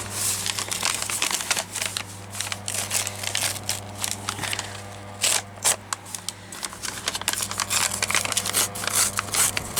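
Paper being torn and crinkled by hand for a craft journal, a close series of rustling rips and crumpling bursts in an uneven rhythm, with no talking.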